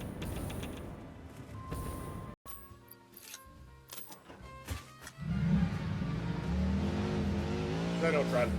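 Vehicle driving in a combat video game, with engine revving and rising in pitch after a sharp cut, plus game clicks and clatter, while a person talks over it.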